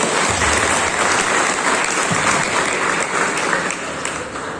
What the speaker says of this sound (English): Give a clap for Sairaj, please.